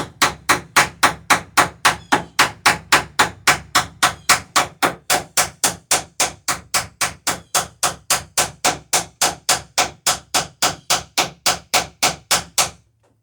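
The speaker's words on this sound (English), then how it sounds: "Because the washer went on and then I was able to peen it over" Repeated hammer blows peening rivets over washers on wooden dory planking, about forty sharp, evenly spaced metallic strikes in a steady fast rhythm, close and loud, ending with a brief pause.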